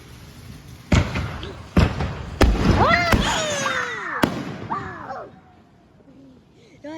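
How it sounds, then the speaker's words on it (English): July 4 fireworks poppers bursting outdoors: several sharp loud bangs spaced a second or so apart, followed by whistling, crackling fizzes, then fading to quieter ambience. "There's still poppers over there"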